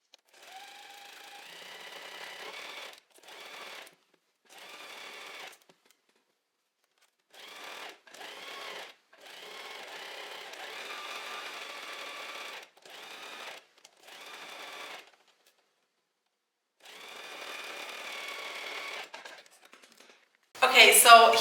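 A normal domestic sewing machine stitching jersey fabric for a top, running in close bursts of steady whirring separated by short pauses, ending with a louder clatter.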